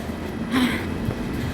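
Train noise on a platform at Cheonan-Asan station, where KTX high-speed trains and subway Line 1 meet: a steady low rumble with a brief rise midway, heard alone.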